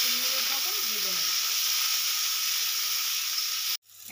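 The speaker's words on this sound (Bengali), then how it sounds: "আমি যে উচ্ছেটা কেটে রেখেছিলাম সেগুলো ভেজে নেব" Sliced bitter gourd frying in a pan gives a steady, even sizzle and hiss that holds for most of the clip and then cuts off abruptly near the end. No one speaks over it.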